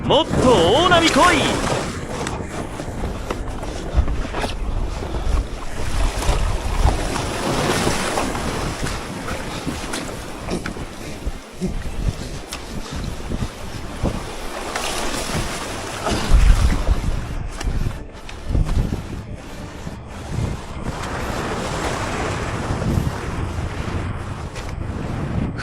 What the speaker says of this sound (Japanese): もっと大波来い。